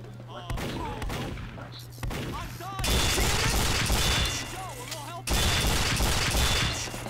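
Repeated gunfire bursts from Team Fortress 2 game combat, dense and loud through most of the stretch, with brief pauses between volleys and a player's voice talking over parts of it.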